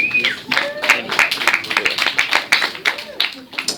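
A comedy club audience applauds comedian Andrew Fahey with steady, lively clapping, while a voice talks over the applause throughout.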